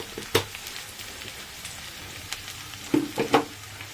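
Spices sizzle in hot oil in a pan as turmeric is stirred into fried jackfruit and prawns for a curry; a low steady crackle is broken by a few sharp louder bursts of sizzle and stirring, with no voices.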